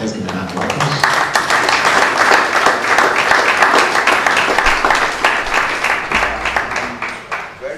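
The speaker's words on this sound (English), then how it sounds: "Please let's give him a round of applause." Audience applause after a distinguished lecture on medicinal chemistry and drug discovery, a dense sustained roar of many hands clapping together in a hall, steady and loud before tapering slightly at the end.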